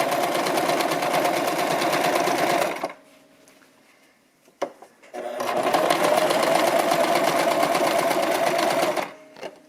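A Brother LX-3125 sewing machine stitches around a curved apron edge in two steady bursts of loud, continuous whirring, separated by a quiet pause of about two seconds.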